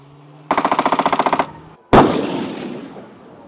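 Military gunfire during gunnery table 5 practice: a rapid burst of about a dozen evenly spaced loud shots, then after a short pause a single heavy boom with a long rumbling decay.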